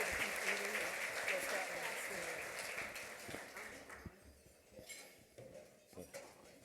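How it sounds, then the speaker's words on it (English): A large audience applauds at the 2025 Spencer Awards Dinner, with steady dense clapping for about four seconds that thins out and gives way to scattered claps, the clink of cutlery and dishes, and faint voices. "So everyone, please give J.C. Battle a big round of applause."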